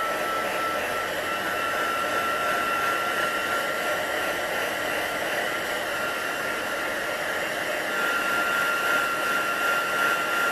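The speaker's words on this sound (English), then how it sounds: "I'm going to put the heat tool on it for a second" Electric heat tool blowing hot air onto a papercraft card base, a steady, loud whooshing fan roar with a thin motor whine that holds constant throughout, no voices.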